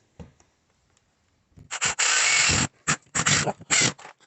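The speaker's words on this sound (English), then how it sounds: "I'm putting some screws in here to secure this" A power driver sinks screws into the wooden frame of a partition wall, giving several close, loud bursts of whirring and grinding, one longer sustained drive followed by shorter intermittent pulses with quiet gaps between.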